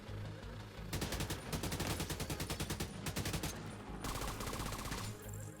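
Rapid bursts of AK rifle fire in The Division 2, sharp regular automatic shots in two long strings with a short pause, loud and close, followed by a brief tonal game cue.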